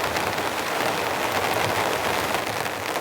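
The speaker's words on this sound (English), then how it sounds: "There's some nice thick rain coming down." Thick, heavy rain drums steadily on a tent tarp at a campsite during a rainstorm, a dense continuous patter close by with no voices.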